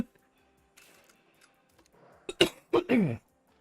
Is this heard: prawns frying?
no